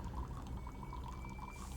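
Water splashes and trickles from a fountain in the game King's Quest 8, a soft, continuous pouring heard alone at low volume.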